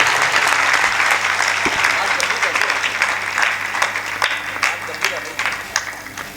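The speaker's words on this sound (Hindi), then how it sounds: "आज कोई ताली वाली नहीं बजाता।" An audience claps at a Hindi religious discourse, a loud sustained wash of applause that gradually thins into scattered individual claps.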